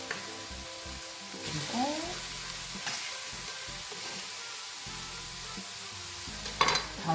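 Shredded dried squid hitting a just-heated frying pan, giving a steady low sizzle with stirring scrapes and a few brief clatters, while a voice speaks a word.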